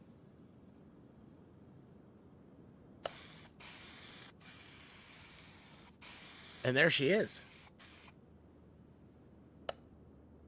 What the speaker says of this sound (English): So let's go ahead and spray it up.